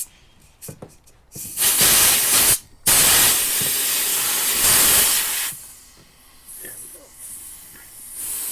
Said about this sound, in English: let me turn up the air compressor.